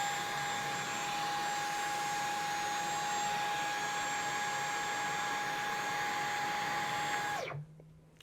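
Dyson V12 cordless stick vacuum running in eco mode, a steady close whine with a constant pitch that holds evenly for about seven seconds and then cuts off abruptly as the motor shuts down.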